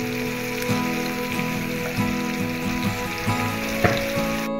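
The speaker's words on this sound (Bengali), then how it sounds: "এটা বিলাহী সরুকে কাটি থাকা বিলাহী এখানে অল্প দিয়ে ভাজি লম" Chopped tomatoes frying in a pan for a palak chicken dish, a steady, close, dense sizzle with soft popping and a few stirring clicks, no talking.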